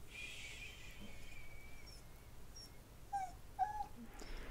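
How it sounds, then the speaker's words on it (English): A dog whimpers in loud, high-pitched bursts, a thin drawn-out whine first and then sharper yelps near the end, over steady indoor background noise. "The dog was really loud and it was super high-pitched"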